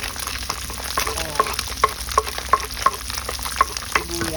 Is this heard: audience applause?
no